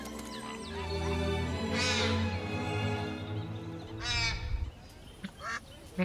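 Geese in Paris honking in two loud, drawn-out calls over a steady low rumble of traffic or city hum, with smaller honks trailing off near the end.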